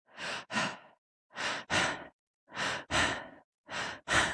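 A person demonstrates shallow, quick breathing: four pairs of short inhale-exhale breaths, each soft and airy, evenly spaced with brief silences between, close to the microphone and with no talk.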